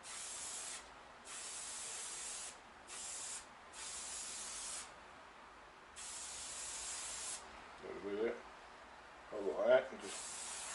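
Short bursts from a spray can onto a foam filter in a shed, several separate hissing blasts with brief pauses between them, followed by faint rubbing sounds.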